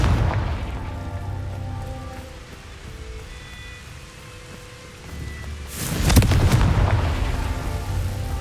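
A Confringo fire-spell blast in Hogwarts Legacy erupts as a loud, close boom near the end, after a stretch of low rumbling ambience and faint tones, with no voices.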